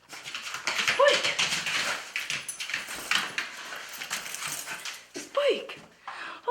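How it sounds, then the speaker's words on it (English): Spike, a dog, whimpers and yips up close while people call to him and chatter over the noise, with scuffling and a door sound in the room. "Oh, you're a cute dog."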